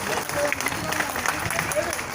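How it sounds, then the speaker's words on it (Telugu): Audience applause at a student dance performance, dense steady clapping from a crowd lasting a couple of seconds. "గట్టిగా మీ చప్పట్లతో వారిని ఆశీర్వదిద్దాం"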